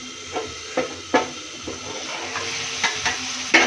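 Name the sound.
chicken frying in oil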